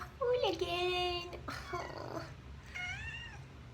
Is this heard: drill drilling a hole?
no